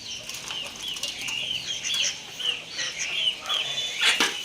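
Chickens and ducks flap their wings in repeated soft bursts with scattered clucks and chirps as they are fed leftover rice and macaroni nearby.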